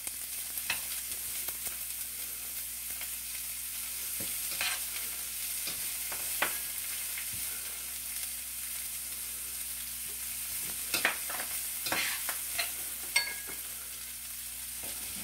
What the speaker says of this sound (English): then after you add all this, you saute it for about 2 more minutes